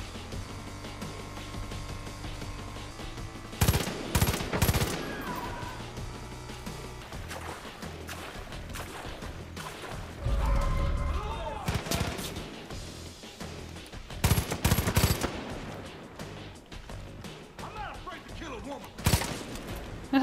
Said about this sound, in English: Maybe I can shoot the tower.